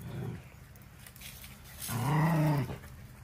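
Dogs out in a garden give a low rumbling growl, then a louder drawn-out growling bark-like howl, close and fairly loud with no talk.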